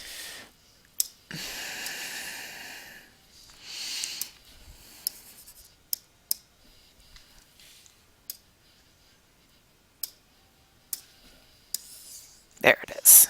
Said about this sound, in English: So let me draw a circle here.